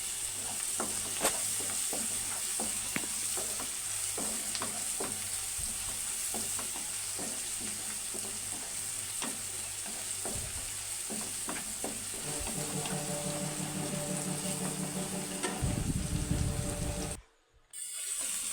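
Onions and tomatoes cook in a pan with a steady sizzle and repeated stirring clinks, then brief running water before a short silence near the end.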